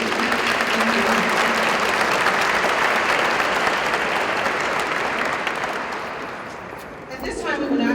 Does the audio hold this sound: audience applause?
yes